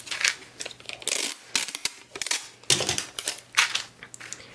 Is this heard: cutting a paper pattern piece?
yes